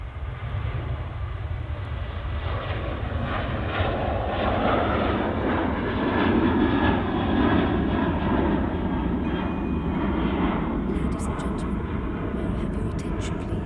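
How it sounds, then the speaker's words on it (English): A Ryanair jet airliner departs from Manchester Airport, its engines a steady, loud, broadband roar that swells slightly mid-clip and holds throughout, with no talk over it. "Here's a Ryanair off to Blackpool."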